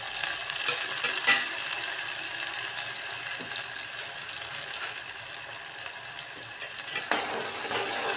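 Finely chopped eggplant fries with onions in a pan, a steady close sizzle with occasional stirring clinks and scrapes throughout.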